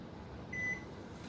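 A Panasonic NN-CD86JD microwave oven runs in micro mode with a low, steady hum and a faint high whine, heard close and quiet with no talk.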